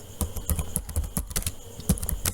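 Typing on a computer keyboard, a run of quick, irregular key clicks close to the microphone with no talk over them.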